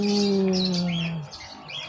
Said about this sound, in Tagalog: Yan, meron na tayong isang ibon.